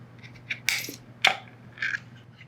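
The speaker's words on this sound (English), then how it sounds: "I'm gonna open one of these cans." A can of smoked meat being opened, giving a few close, crisp metallic clicks and scrapes in quick succession, with a sharp snap of the lid in the middle and quiet room tone between.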